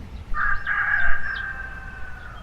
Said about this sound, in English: A child rides her bike near the train tracks as a rooster crows in the distance.